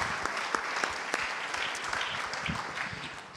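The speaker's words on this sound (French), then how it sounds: "Sylvain, on peut l'applaudir." Event audience applauding an athlete: a steady, dense wash of many hands clapping at moderate level, heard alone without talk.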